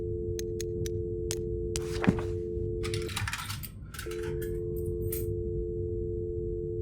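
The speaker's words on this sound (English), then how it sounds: "I have to insert a quarter." A quarter drops into a payphone coin slot in the video game Fear The Spotlight, with a few metallic clinks and a thunk over a steady electronic hum.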